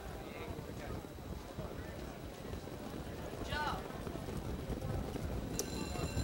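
Trotters are lined up for the start of a harness race at the Meadowlands, with distant, steady hoofbeats under crowd noise and a track announcer's voice.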